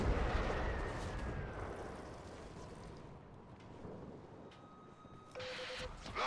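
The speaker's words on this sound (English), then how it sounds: "That was the old Macross cannon." A Macross cannon firing in the video game Warframe, heard as deep, rumbling booms that fade into a low roar, with a brief tonal whine near the end.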